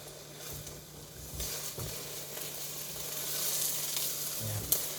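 Eggs stir-frying in a pan, a continuous soft sizzle of hot oil close by, rising slightly toward the end, with a faint utensil click near the finish and no talking.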